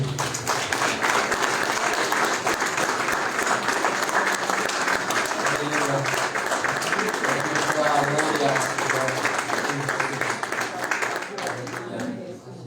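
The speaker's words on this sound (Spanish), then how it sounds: "¿Cuántos podemos darle un fuerte aplauso al Señor?" A church congregation applauds in a long, steady round of clapping that stays loud and dense throughout, with crowd voices and cheering mixed in before it tapers at the end.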